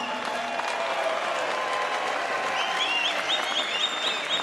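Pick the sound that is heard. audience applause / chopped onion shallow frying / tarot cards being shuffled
audience applause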